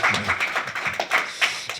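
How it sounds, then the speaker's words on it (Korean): A church congregation at a Sunday service claps briefly. The clapping is scattered and uneven, mixed with some speech-like sound, close and moderately loud across a short burst. "우리 모든 분들을 위해서 박수 한번 보내주시기 바랍니다"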